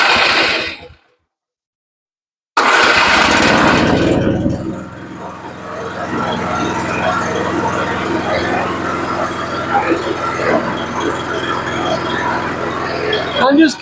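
A Honda snowblower engine runs on choke while warming up, loud and rough after a brief silence, then settling into a steady, somewhat quieter idle drone that continues to the end.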